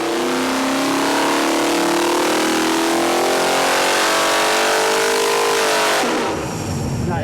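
A 512 stroker raised-block V8 on an engine dyno screams at wide open throttle, its roar climbing steadily in pitch for several seconds before cutting off abruptly near the end, loud and close with no talking.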